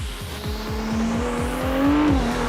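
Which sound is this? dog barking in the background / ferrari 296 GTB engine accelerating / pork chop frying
ferrari 296 GTB engine accelerating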